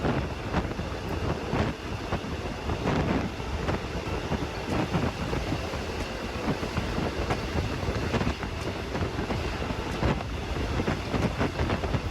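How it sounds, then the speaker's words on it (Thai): An elevated section of the Bangkok high-speed rail line, running from Krung Thep Aphiwat toward Don Mueang, carries a moving train as a steady, loud rumble, with wind buffeting the microphone throughout. "ขบวนรถเสาม135 ได้สู่ พื้นดินแล้วนะครับ จากทางยกระดับตั้งแต่กรุงเทพอภิวัตร ถึงดอนเมือง"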